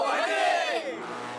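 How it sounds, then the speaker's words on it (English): A racing team lets out a hearty group cheer before a car race, a loud burst of many voices shouting together that fades slightly toward the end. "With a hearty cheer, Choi heads for the circuit."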